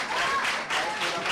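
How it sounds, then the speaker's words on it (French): A brief burst of audience applause from a crowd at a national exam launch event, faint and distant, with a voice mixed in. "On applaudit, non?"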